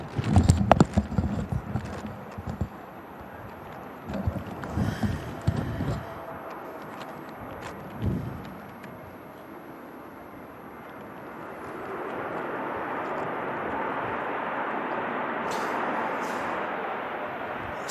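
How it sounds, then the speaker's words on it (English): An EasyJet Airbus A321neo arriving from Reykjavik lands at Manchester in Storm Darragh's strong winds; irregular knocks come first, then a broad, steady roar swells and holds through the second half. "Another EasyJet arrival this time is on the Airbus A321 Neo."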